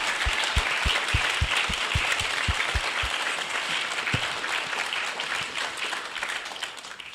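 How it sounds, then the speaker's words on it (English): An audience at an alumni Hall of Fame dinner and induction ceremony applauds the honorees. Sustained, close clapping from a full room, with a few sharp individual claps standing out near the start. "let's again give all of our honorees a round of applause"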